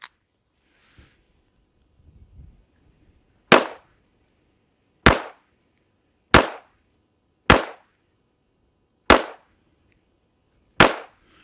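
Six sharp pistol shots from a Jim Clark Sr. custom pistol ring out alone at an outdoor range, spaced about a second apart, after a few faint handling noises.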